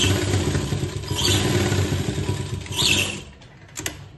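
A sewing machine stitches a small cotton summer dress, its motor a fast, continuous mechanical clatter that runs steadily before slowing and stopping near the end.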